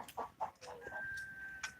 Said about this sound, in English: I didn't know there was a chicken roosting out there.